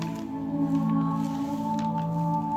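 Red acrylic paint pours onto a painting with a soft, continuous wet squishing, quiet under a steady musical drone.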